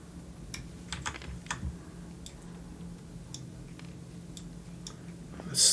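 Irregular clicks and taps from a computer keyboard being typed on close by, arriving in short bursts with pauses, with no talking.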